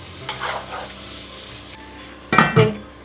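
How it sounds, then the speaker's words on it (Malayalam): Tomatoes and spices sautéing in a pan for a prawn biryani: a soft stirring scrape and faint sizzle, then a louder burst of clattering pan or lid sounds near the end, no talking. "ഇതും കൂടെ ചേർത്തിട്ട് ഇങ്ങനെ അങ്ങ് വഴറ്റി കൊടുത്തിട്ട് നമ്മളിനി ഈ തക്കാളിയൊക്കെ വേവാൻ വേണ്ടിയിട്ട് കുറച്ച് നേരം ഒന്ന് അടച്ചു വെച്ച് കൊടുക്കുക"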